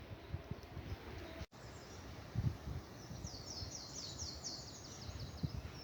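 Birds call faintly at a distance along a countryside footpath on the North Downs Way near Ranmore Common, with a few soft chirps and a brief run of high twitters over quiet outdoor ambience and light rustling.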